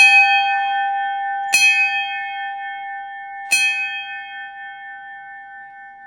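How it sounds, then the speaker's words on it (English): A single bell rung three times, each clear metallic strike followed by a long, ringing tonal decay that fades slowly between hits, with no voices over it. "Ring the bell 3 times well."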